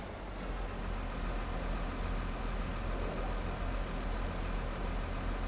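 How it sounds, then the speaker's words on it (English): Tractor engine idling in Farming Simulator 22, a steady low rumble that holds at an even, loud level for the whole stretch with no talk over it. "Look at this tractor."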